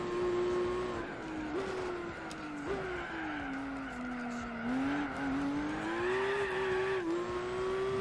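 Race car tires squeal continuously through fast corners in Gran Turismo 4 during a Nürburgring endurance race with an FPV F6, a wavering high-pitched screech over a steady engine drone, loud and close throughout.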